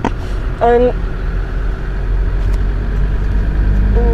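A car engine runs with a steady low rumble throughout, heard from close by, while a voice speaks briefly over it near the start and again at the end.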